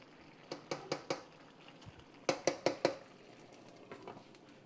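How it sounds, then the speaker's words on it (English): A metal lid clatters and rattles against a pot of Puerto Rican stewed chicken, giving two quick clusters of four sharp, close knocks and then a faint final tap. "go ahead and put the lid back on it and let it finish cooking down"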